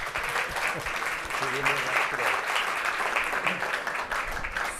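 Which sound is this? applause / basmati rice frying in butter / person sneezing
applause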